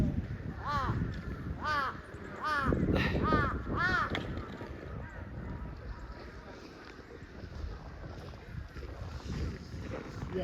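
Several crows caw in short bursts near nests at Noboribetsu Jigokudani in snowy Hokkaido, the calls clustered early and then fading, over steady wind noise with speech nearby.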